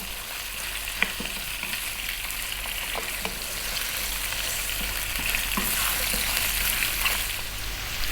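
Lamb pieces for a lamb potato curry frying over above-medium heat, a continuous close sizzle with scattered spatula scrapes and clicks as the meat is moved around the pan.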